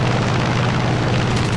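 A hit lands on the engine of a Ki-61 fighter plane in War Thunder, heard as a loud, dense booming blast over the constant low drone of aircraft engines.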